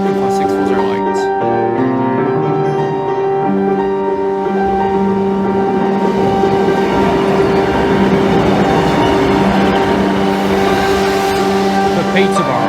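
A Class 195 diesel train passes Brayford level crossing, loud and close, with a strong tonal engine hum and a building roar of wheels on rails, crossing warning tones audible early on.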